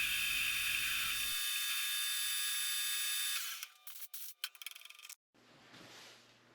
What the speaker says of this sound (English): now parting off the adjusting screw